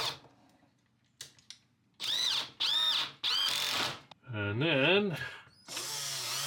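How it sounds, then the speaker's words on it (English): A power drill whirs in several short bursts while drilling at an angle, its pitch rising and falling as the bit bites, with a person speaking briefly between runs. "I think I better drill at an angle."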